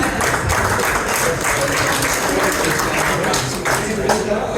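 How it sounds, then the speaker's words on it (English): An audience at a corporate dinner applauds volunteers called up on stage, dense continuous clapping filling the room at full volume with no pauses. "Give them a big round of applause, ladies and gentlemen."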